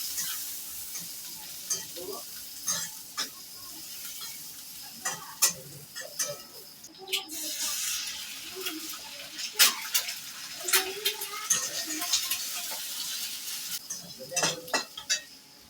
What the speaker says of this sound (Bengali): পেঁয়াজটা দিলে ভালো করে ভেজে নিই